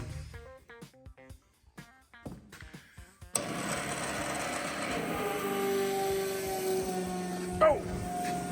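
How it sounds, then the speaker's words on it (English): An electric fuel pump on a new fuel tank switches on after a voice speaks, then runs as a steady mechanical whir with a constant tone, broken near the end by a brief louder clatter. "Now we're gonna turn the pump on"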